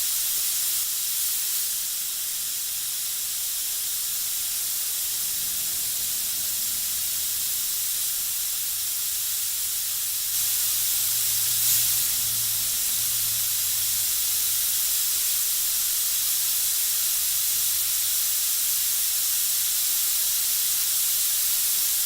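An airbrush sprays yellow paint in a fine micro-airbrushing setup, giving a continuous close, steady hiss with slight swells in intensity throughout and no voices.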